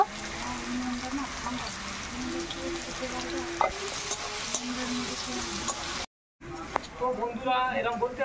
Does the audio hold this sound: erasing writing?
no